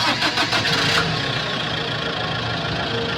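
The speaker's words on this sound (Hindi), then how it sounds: "कमर कुछ सीधी कर लगभग आधे घंटे के बाद हमने गाड़ी स्टार्ट की" A car engine cranks in a quick run of rhythmic pulses, then catches and settles into a steady, close idle hum.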